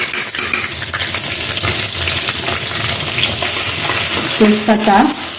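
Bay leaf and whole cumin seeds crackle and sizzle steadily in hot oil in a pan, with a few clinks of a metal utensil stirring near the end; no one speaks.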